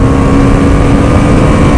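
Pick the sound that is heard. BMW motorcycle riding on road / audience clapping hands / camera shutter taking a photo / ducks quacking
BMW motorcycle riding on road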